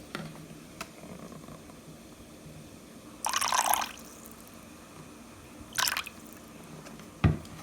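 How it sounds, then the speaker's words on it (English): Soy sauce, two tablespoons, poured into a bowl of peanut sauce: three short liquid bursts, the first a few seconds long and the next two briefer, close by over a quiet background with no talking. "Then you add your 2 tablespoons of soy sauce."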